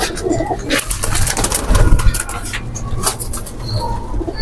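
Lal Peri pigeons cooing in a loft, soft low repeated coos mixed with rustling, shuffling and occasional wing flutters, close by and fairly busy throughout.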